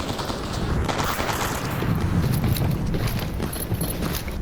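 Rapid gunfire crackles in the video game Stalker Anomaly, a dense continuous barrage of shots with mechanical clatter filling the whole stretch at a steady, loud level.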